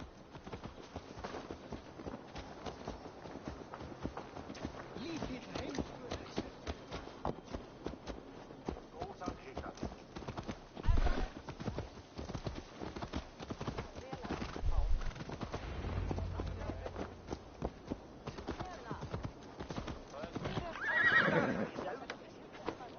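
Horse hooves clop steadily through the scene with scattered footsteps, and a horse whinnies near the end; speech is heard faintly at times, in Assassin's Creed Valhalla.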